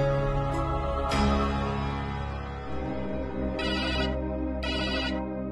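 A mobile phone plays a melodic ringtone for a mother's incoming call, a steady tonal tune with bright bursts repeating, fairly close and heard alone without talk.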